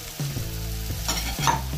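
Diced calabresa sausage fries in a pan for farofa, a steady sizzle with occasional stirring scrapes, close and clear with no talking.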